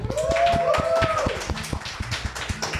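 Steady patter of hand claps from a small group at a game industry event runs throughout, with a short bright tonal sound rising briefly early on.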